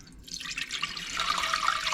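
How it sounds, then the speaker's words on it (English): Three cups of water pour into a pot for mead, a close, steady splashing that swells louder as the pot fills. "and pour it up in our pot."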